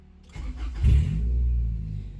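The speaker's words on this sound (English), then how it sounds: "It's open header" A car engine with an open header and no exhaust fires up and revs hard, a loud raw rumble that surges and then holds at a steady rough idle close by, with no talking.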